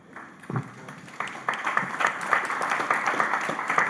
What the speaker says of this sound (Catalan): amb aquest aplaudiment que dediqueu